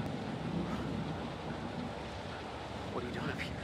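Steady rain and low rumbling thunder fill a stormy scene in the video game Man of Medan, a dense continuous wash of noise with faint talk in the background.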